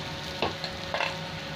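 Water spinach frying in a pan with potato, onion, aubergine and green chili gives a close, steady sizzle, broken by two short scraping stirs.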